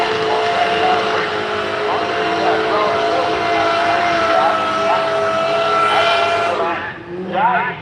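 A Volvo drag car accelerates hard down the drag strip, its engine whine climbing in loud, sustained tones before the roar drops away and a brief second surge follows.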